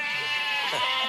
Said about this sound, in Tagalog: Umangal yung mga kambing